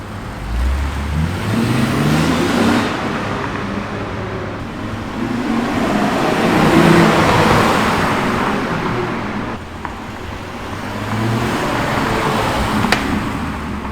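A 2021 Lexus IS350 rolling past outdoors, a smooth engine hum and tire roar that swells as it nears and then recedes, with continuous traffic-like road noise throughout.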